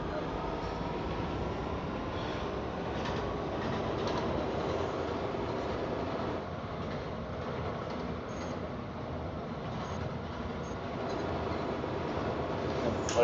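A train moving in a video game, a continuous rolling rumble with faint clickety-clack held at an even level throughout, with no voices over it.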